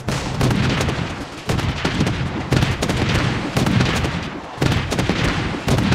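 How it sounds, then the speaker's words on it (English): A vortex blast weapon in the shooter Project Bloodstrike fires in heavy, rapid booming bursts, loud and continuous with a few short gaps, like close artillery. "Vortex blast engaged"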